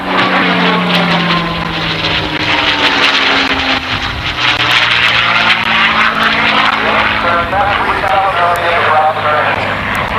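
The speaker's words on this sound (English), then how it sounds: "Look at the spinner on the P-51. You can almost count the RPM." A P-51 Mustang's piston engine and propeller drone loudly and steadily at an airshow, a strong continuous roar with a throbbing low pitch that slowly shifts, with crowd talk mixed in underneath.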